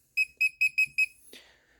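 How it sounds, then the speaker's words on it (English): Laser projection keyboard giving key feedback: five short, evenly spaced electronic beeps close up, followed by a brief falling tone, all clear and alone. "you can also adjust that beeping feedback that you get"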